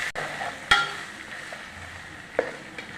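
Ginger garlic paste for crab masala sizzles softly in a pan, a quiet steady hiss broken by a couple of sharp utensil scrapes or clinks.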